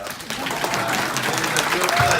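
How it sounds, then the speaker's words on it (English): Audience applause at a chamber of commerce candidates event in Ulster County, New York: a steady burst of clapping from a seated crowd, fairly loud and sustained throughout. "yes, you can clap it up"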